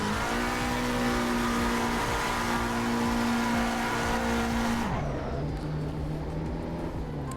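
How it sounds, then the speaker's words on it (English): A McLaren race car in a racing game held at full throttle in neutral, a loud steady high engine drone that drops in pitch as the throttle is released near the end, with no one speaking. "Bit of brake pedal into neutral, full acceleration, and then just let off."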